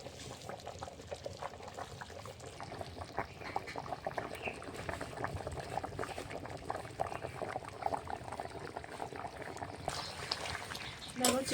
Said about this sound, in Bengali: ভালো করে 10-15 মিনিটের মতন ফুটিয়ে নেব